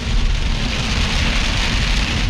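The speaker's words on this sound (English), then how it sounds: "Okay, it is like really raining hard." Heavy rain pours down steadily around a vehicle driving at about 37 miles an hour, a dense, continuous hiss with a low rumble underneath.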